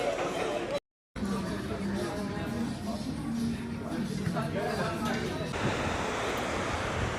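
Sea waves break on a Cyprus shore in a steady, loud wash of surf, with wind buffeting the microphone and faint voices underneath; the sound cuts out for an instant near the start.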